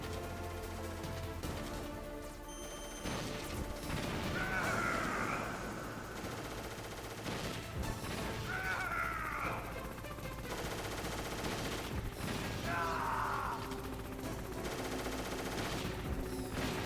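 Gunfire rattles through a Metal Gear game in repeated bursts, with three louder sweeping flurries mixed with game music and effects across the span.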